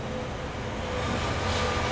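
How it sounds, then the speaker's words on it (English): Train rolling past, a loud continuous low rumble with broadband rushing noise that swells slightly as it goes by, no voices. "That's a train"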